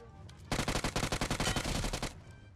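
Loud, rapid bursts of automatic gunfire from the video game PUBG Mobile, a dense string of shots lasting about a second and a half before cutting off into quiet background.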